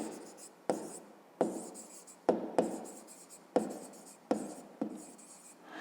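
Pen or pencil writing numbers on paper while solving a fifth-grade maths divisibility exercise, with short bursts of scratchy strokes separated by brief pauses, close and clear.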